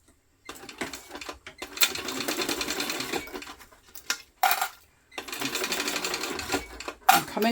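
A domestic sewing machine runs in bursts as it stitches the seams of a fabric tote bag, with brief stops and small clicks between runs, close and fairly loud, while a person speaks in between.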